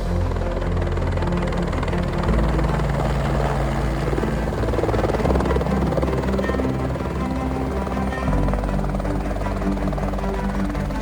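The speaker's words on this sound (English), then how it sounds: "we're about to lift off on our Fiordland Heli Traverse" A helicopter on the ground at Blanket Bay, New Zealand, lifting off for a Fiordland heli traverse: a loud, steady rotor and turbine roar with deep pulsing thump, close and continuous throughout.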